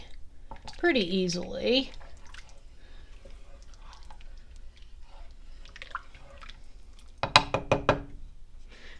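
Sour cream stirred into a slow cooker white chicken chili, giving wet squishing and a few quick spoon clicks near the end, after a person talks at the start.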